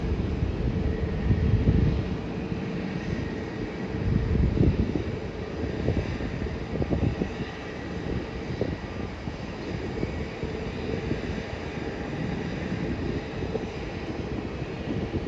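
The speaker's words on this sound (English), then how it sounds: "You can see it going towards the runway, getting ready to depart." An airliner departing Melbourne for Singapore taxis toward the runway, heard as a steady, moderately loud engine rumble mixed with gusty wind noise on the microphone and no talk.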